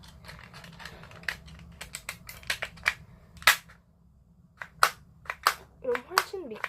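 Plastic clicks and snaps from a lubricated BB gun magazine, with its spring and magazine catch, being reloaded and fitted back together; sharp irregular clicks close up over a low background, with faint talk underneath.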